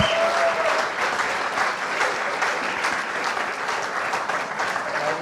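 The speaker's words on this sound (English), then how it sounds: "Give them a very big applause" Sustained, even applause from an audience after an onstage interview, a dense wash of clapping that runs the whole stretch with no talking over it.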